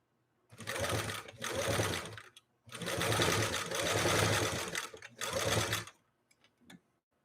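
A Singer 328K sewing machine stitches through leather in three loud bursts of running, with brief pauses as the speed is throttled up and down, ending in near silence with a few faint clicks.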